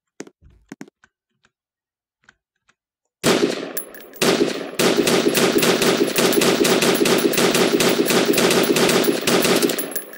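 Gunfire in a video game: a few faint clicks, then a sudden long stretch of rapid automatic fire, loud and close, with a brief break before it resumes steadily to the end.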